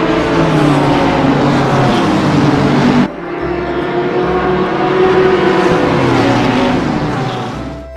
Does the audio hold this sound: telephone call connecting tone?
no